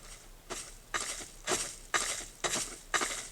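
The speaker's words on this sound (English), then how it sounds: "So all we can hear are the people walking around." Soft, regular video game footsteps of people walking around, tapping along at an even walking pace, about two steps per second, faint and slightly distant.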